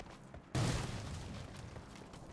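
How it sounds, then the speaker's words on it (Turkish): A grenade goes off in the PUBG Mobile game with a sudden loud blast after a quiet moment, then a broad rumbling roar that slowly dies away. "Şöyle bir bomba atıyorum."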